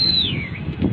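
Pigeons perched up high, one of a pair of fancy pigeons in a loft, give a soft, falling call that fades over a steady background hum and rustle.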